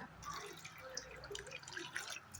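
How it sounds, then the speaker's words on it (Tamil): Water is poured into a cooking pot holding lentils and chopped eggplant for a dal, a faint, soft trickle with scattered drips and splashes close by. "இப்போது தண்ணி ஊற்றிடுவோங்க"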